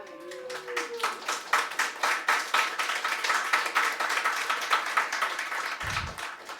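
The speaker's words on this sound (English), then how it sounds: "That's worth applauding." A church congregation claps for a met building-fund goal, a fairly sparse round of individual hand claps in a loose rhythm, moderately loud, with a brief voice at the start.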